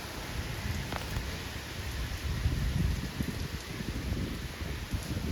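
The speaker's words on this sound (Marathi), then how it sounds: "पाऊस आलाय छान पाऊस आलाय" Steady rain pours down in a continuous, dense hiss with scattered patters, close by and fairly loud, with no voices.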